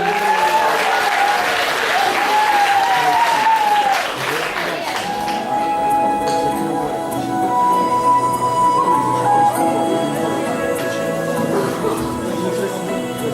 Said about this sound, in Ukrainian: Бурні оплески їм!